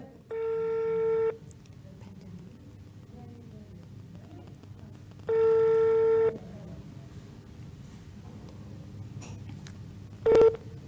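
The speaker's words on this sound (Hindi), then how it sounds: "आप जिस व्यक्ति को कॉल कर रही हैं ये फ़ोन हमारा नहीं उठा रहे हैं" An outgoing phone call rings unanswered: two long, steady ringback tones about four seconds apart over low background noise, ending in a brief beep.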